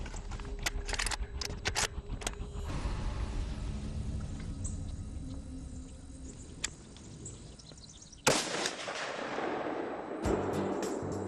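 A rifle shot fired at a deer during a hunt rings out as a sharp, loud crack over steady outdoor background noise, followed by a fainter sharp report a moment later.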